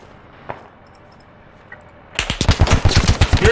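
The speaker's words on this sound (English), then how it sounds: "You're firing at me! Stop firing!" Video game gunfire: after a quiet stretch with a faint isolated shot, a loud rapid burst of automatic fire erupts and continues as a close, rattling stream of shots.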